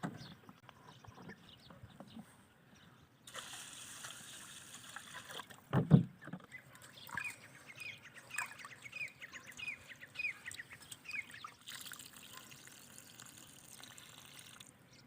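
Rice being rinsed: water sloshes and gushes in short bursts, with a splash and a run of small trickling, rinsing sounds, fairly quiet and close, with no talking.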